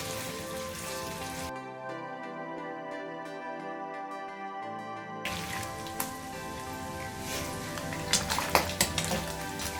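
Beef for Kabuli Pulao fries in oil with a steady rain-like sizzle, briefly interrupted by a musical sting before the frying hiss returns with occasional stirring scrapes, close and continuous.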